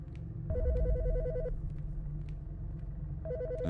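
A phone rings in the video game Midnight Heist, two warbling electronic bursts about a second long separated by a pause, loud and alone over a low rumbling background.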